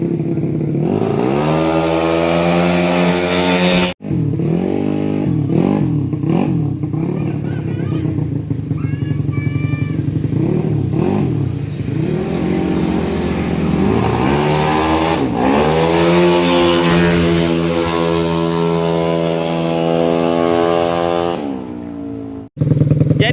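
Honda Beat 150cc scooter engine with an aftermarket monster-type exhaust revving repeatedly in a workshop, loud close rising and falling revs with a stuttering bog on the low end and brief pauses between pulls.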